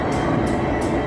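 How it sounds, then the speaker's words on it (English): A Freightliner Class 59 locomotive hauling an aggregate freight train passes close by in London, a loud, steady rolling roar with a few sharp hissing bursts on top. "So this is a Freightliner Class 59"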